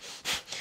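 Forceful breathing in and out through the nose, hyperventilation-style, heard up close as a short rushing inhale and exhale with no talking.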